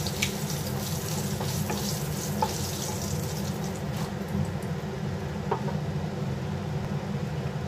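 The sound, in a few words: black cumin and bay leaf frying in hot oil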